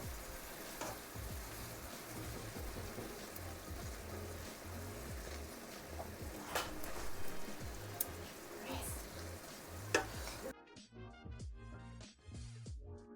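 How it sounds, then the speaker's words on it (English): Half-cooked eggs being mixed and spread in a frying pan, with continuous sizzling and repeated scraping strokes throughout, then a sudden drop to quieter sizzle near the end. "When the eggs just like half cooked, just like that one, I'm just going to start to mix them up and spread it"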